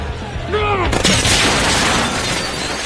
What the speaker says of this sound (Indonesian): tembakan tersebut sepertinya dimaksudkan untuk membunuh Jacob